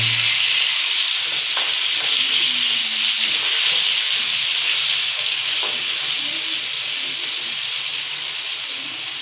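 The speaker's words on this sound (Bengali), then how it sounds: "পাঙ্গাস মাছ ভাজতে গেলে তেল ছেড়ে অলরেডি আমার গায়ে এসে পড়ছে" Pangas fish fries in hot oil with a loud, continuous hiss and sizzle, broken by a few sharp spattering pops. The sound stays close and even and fades slightly at the end, with no voices.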